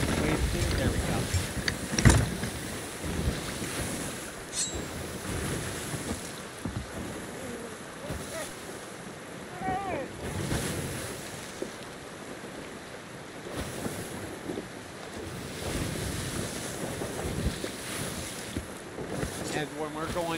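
In the Sea of Thieves video game, ocean waves and gusting wind wash steadily against a sailing ship, a continuous roar of surf and breeze with swelling surges throughout.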